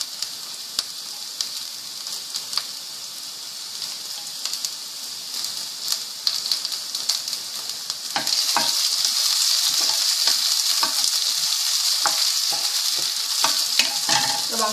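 Onions sizzling in a pan for vegetarian pad kaprao, starting with light crackle and a few stirring taps, then a sudden louder, steady hiss of frying that continues close up, with no speech.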